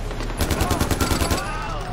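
Rapid automatic gunfire in Far Cry 4, a burst of about a dozen evenly spaced shots fired close and loud, with game ambience underneath.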